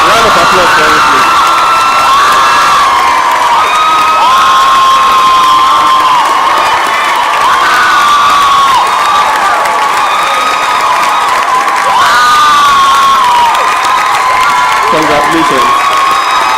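A loud crowd at a school graduation and prize-giving ceremony claps and cheers for a top scholar, with shouts and whoops over sustained applause and a steady tonal whistle-like line running through.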